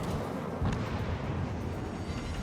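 Warship guns fire in the naval video game World of Warships: Legends, a dense, continuous rumble of booming blasts that rolls on without a break, with no talking.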